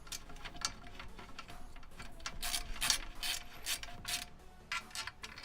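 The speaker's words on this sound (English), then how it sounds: "I have to use a hex wrench." A hex wrench turning a bolt on an FLSun V400 delta 3D printer: close, quiet series of irregular ratcheting clicks and scrapes, no voices.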